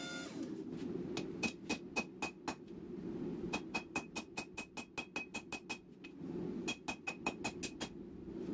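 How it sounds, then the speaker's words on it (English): Repeated ringing hammer blows forging a steel billet down with 1-inch kiss blocks, close and metallic, in quick evenly spaced runs broken by short pauses, over a low background roar. "Here I'm using some 1-inch kiss blocks and forging it down."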